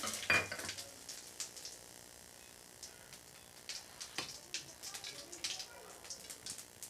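Quiet sizzling of whole spices dropped into hot oil in a wok, with scattered clicks and light utensil taps over a soft crackle.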